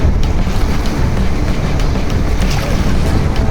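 Floodwater rushing in a deep, broad channel during Cyclone Montha, a dense, steady roar that stays loud and constant throughout with no pauses and no voices.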